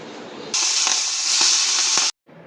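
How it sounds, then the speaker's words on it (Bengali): Khoira fish sizzle loudly in hot oil in a pan, a steady bright frying hiss lasting about a second and a half with a few soft knocks, then cutting off abruptly before quieter frying resumes. "আগে খয়রা মাছগুলো ভেজে নিই"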